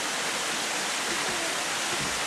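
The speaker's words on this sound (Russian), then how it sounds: "Течет ручей." A stream rushes near the Gremyachy waterfall, a dense, steady hiss of flowing water close by with no break, loud and continuous.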